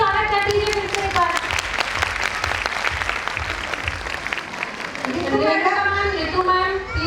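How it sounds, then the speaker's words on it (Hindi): Audience applause at a school annual function, sustained loud clapping from a seated crowd over amplified voices and music from the stage. "तो तालियों से ही स्वागत कर दीजिए फिर से एक बार।"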